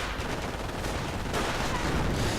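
MG42 machine gun bursts and mortar fire crackle in a video game battle, dense and continuous with rapid overlapping shots, moderately loud with no talk.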